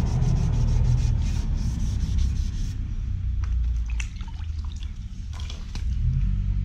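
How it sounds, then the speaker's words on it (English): Painted Vmax air ducts are rubbed down by hand, a close, continuous abrasive scrubbing in uneven strokes that rises and falls without pause. "So now I've got to rub these all down exactly the same, get them all smooth."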